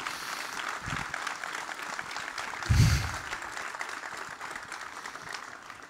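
Steady applause from an audience at a campaign launch event fills the space, with a brief low thump partway through and a few muffled voices beneath the clapping.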